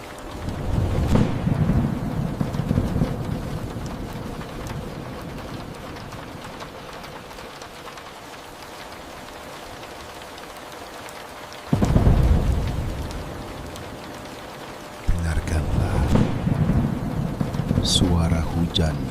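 Steady rain falls in a continuous wash of hiss, swelling and fading, with a deep rumbling burst partway through and a louder patter near the end; a soft voice may murmur underneath.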